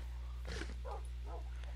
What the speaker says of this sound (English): These are not my dogs, these are his dogs.